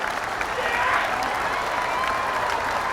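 Steady applause from a crowd in the video game Persona 5 Royal, continuous and fairly loud for the whole stretch, with a faint backing hum beneath it.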